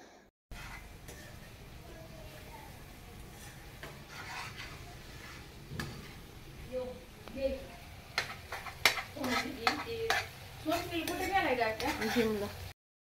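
Masala being worked into raw fish by swirling a metal cooking pot round and round, giving faint scraping and rubbing with soft clinks that grow busier and louder toward the end, no talk over it.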